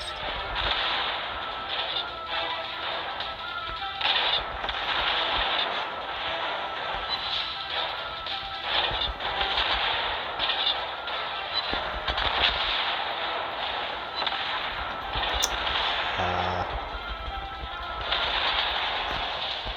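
A warship's broadside gunfire in a naval video game booms and cracks in repeated dense volleys over a constant rumbling battle background, loud and sustained with no talking.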